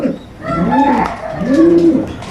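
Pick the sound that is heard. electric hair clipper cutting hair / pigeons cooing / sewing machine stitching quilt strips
pigeons cooing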